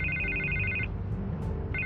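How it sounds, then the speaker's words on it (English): A telephone rings in Batman: The Telltale Series game audio, two electronic ring bursts separated by a short gap, over a low ambient rumble of the game scene. "I can't get the phone to stop ringing."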